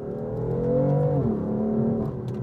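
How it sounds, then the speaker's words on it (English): Inside a 2014 BMW M4 coupe, the engine note is played through the cabin speakers. Its steady droning tone drops sharply as the car knocks down a gear, then settles into a lower hum. "taking the best notes from the engine's noise and playing them through the car's stereo speakers"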